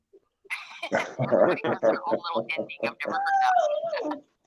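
Dogs howl and yowl along with people singing a birthday song at a party, their drawn-out wavering cries mixed into the loud close singing, with one long sustained howl near the end.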